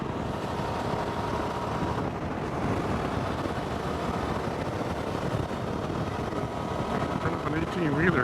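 Strong, constant coastal wind buffeting over a running Suzuki V-Strom 650 motorcycle engine, a loud steady roar filling the whole stretch with no pauses.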